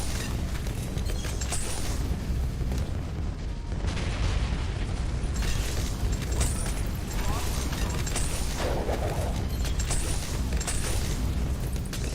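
Bomb explosions in the Bloons video game sound as a dense stream of repeated bursts and pops over a busy, loud game soundscape that runs continuously.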